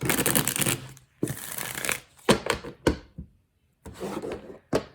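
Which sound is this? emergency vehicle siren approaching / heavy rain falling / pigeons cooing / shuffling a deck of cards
shuffling a deck of cards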